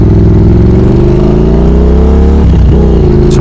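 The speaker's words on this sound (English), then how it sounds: "a sound check to see if I can live with this infernally loud set of Kone Engineering mufflers" Car exhaust fitted with a loud set of Kone Engineering mufflers, revving steadily and holding a deep, loud drone with a brief dip near the end. No one speaks.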